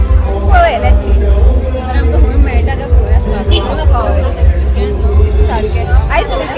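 Dense crowd babble fills a busy weekend food festival, the Aqua Goa Fish Fest in Panaji, a steady loud hum of many voices with a nearby person talking over it.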